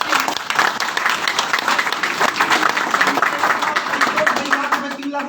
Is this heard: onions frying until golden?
no